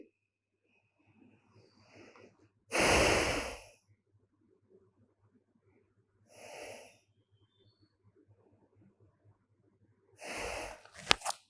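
Three bursts of forceful breathing during a yoga exercise, each a loud rushing exhale of a second or so, spaced a few seconds apart with quiet pauses in between.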